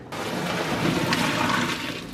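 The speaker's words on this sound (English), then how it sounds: "Drain it into your strainer." Pasta water pours from a pot into a strainer in a steady, rushing gush of liquid, close and fairly loud, with no talking.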